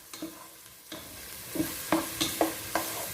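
Onions frying in a pot for a pangasius fish stew, stirred by hand: a soft sizzle under a handful of close, distinct scraping and knocking strokes of the spoon against the pot, irregularly spaced.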